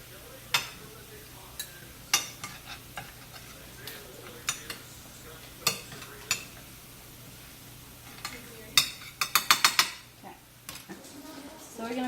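Spoon scraping and tapping in a baking pan while spreading a thin layer of vegan sauce for stuffed shells, sparse scrapes and taps at first, then a quick cluster of clinks near the end, close up.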